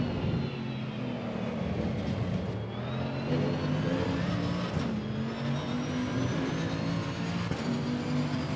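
A race car engine roars in the racing sim Assetto Corsa Evo, a loud sustained drone with rising and falling pitch through gear changes and corners, continuous and close.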